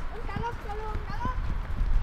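Horse hooves clip-clop at a fast, rhythmic pace during mounted games, thudding close and loud, while people talk and call out over them.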